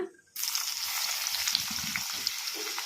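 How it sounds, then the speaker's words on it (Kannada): Crushed garlic suddenly hits hot tempering oil over a medium flame and sizzles steadily and loudly, with faint stirring sounds underneath the constant crackle. "ಮೀಡಿಯಮ್ ಫ್ಲೇಮಲ್ಲೇ ಫ್ರೈ ಮಾಡ್ಕೋಬೇಕು ಒಗ್ಗರಣೆನ"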